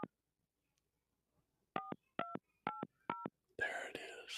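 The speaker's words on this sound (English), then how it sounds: "That riveting radio when you hear somebody dialing a phone number" Touch-tone telephone keypad beeps during a radio call-in show: five crisp, evenly spaced dual-tone presses after a quiet pause, followed by a muffled burst of sound at the end.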